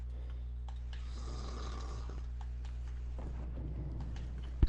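A man snores in slow, low breaths against a steady electrical hum, the rasping inhales faint and drawn out rather than loud.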